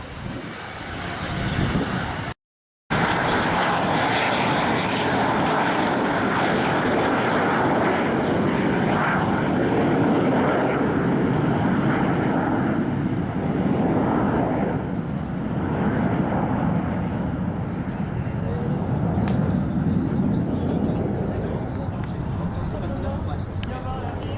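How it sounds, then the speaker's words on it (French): Patrouille de France jets roar loudly and continuously as they take off at an air base open day, a broad sustained jet rumble with a brief cut near the start. "le box avant, leader 2, 3 et 4 au décollage de la patrouille de France"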